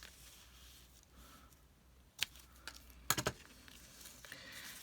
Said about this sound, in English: I'm just going to trim off the ends.